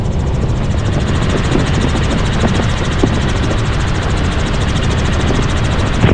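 A tour helicopter flying over Cocoa Beach gives off a loud, steady engine and rotor drone with a faint rhythmic blade pulse, continuous throughout with no talking.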